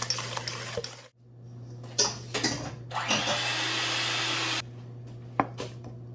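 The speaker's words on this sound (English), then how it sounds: "I'm going to take my blender so I can make sure it's blended all the way" A blender mixing pecan pie filling whirs in loud bursts, with a long steady run of grinding noise between clatters and brief pauses over a low constant hum.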